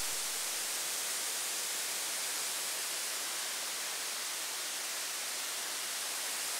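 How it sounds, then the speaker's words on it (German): A waterfall on a cacao farm, Fazenda Juerana Milagrosa, roars as a steady, dense rush of falling water that stays even and unbroken throughout, with no talking. "wie Sie hier schon an unserem Wasserfall sehen können"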